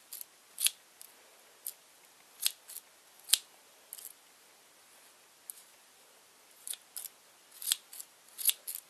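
Scissors trim a yarn pom pom in sharp, crisp snips, close and distinct, arriving irregularly with brief gaps and a few quicker clusters over soft rustling.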